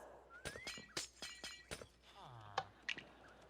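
In Minecraft, glass is tapped and broken to free parrots: several sharp clinks and brief shattering bursts come in quick succession, mixed with chirpy, whistling game sounds at low volume.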